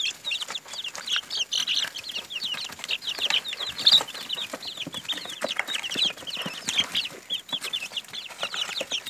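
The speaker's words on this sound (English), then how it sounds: "Let's see how these baby chicks like their breakfast. It's a feeding frenzy." Baby chicks at a homestead feed on breakfast in a frenzy, a dense continuous chorus of close, high peeping and clucking with no voices.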